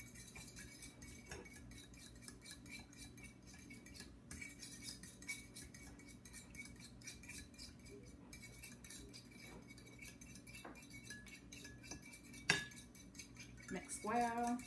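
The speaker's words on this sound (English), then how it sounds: "now we're going to mix this together." Whisking egg and half a cup of milk together in a bowl, with a fork or whisk tapping and scraping continuously and a few sharper clinks against the bowl toward the end.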